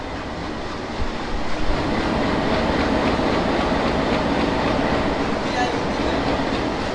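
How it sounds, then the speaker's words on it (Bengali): Nakshikantha commuter train running from Khulna to Dhaka, heard from inside a carriage as a loud, steady rumble of wheels on track with faint rhythmic clatter throughout. "আমাদের ট্রেন কিন্তু চলছে"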